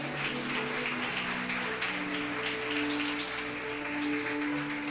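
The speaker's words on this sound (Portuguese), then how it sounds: "Você pode aplaudir a Ele nessa noite?" A church congregation applauds at an evening service, a broad sustained wash of many hands clapping over a sustained musical drone, loud and even throughout.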